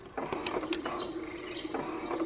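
Rainforest nature sounds play from a Fisher-Price Rose Chandelier Cradle 'n Swing baby swing: a loop of bird chirps, calls and coos over a soft, steady ambient hiss, moderately loud with no talking.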